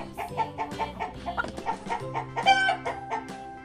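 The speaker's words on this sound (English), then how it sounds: "H for hen." A hen clucks in a quick run of short, close calls, set within a children's alphabet rhyme over a musical backing with no spoken words.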